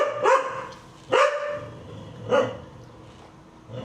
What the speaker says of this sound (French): l'autre qui aboie parce qu'elle a peur du vent